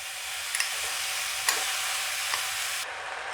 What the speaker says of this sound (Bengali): এবার আখের গুড়ের সঙ্গে চালতাটাকে খুব ভালো করে মিশিয়ে নিতে হবে।